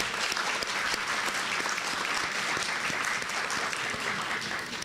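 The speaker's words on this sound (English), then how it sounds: "I'd really just like to give Judy a round of applause to start this evening out." A room full of dinner theater guests gives a sustained round of applause for Judy, dense overlapping clapping at an even, steady level throughout with no speech over it.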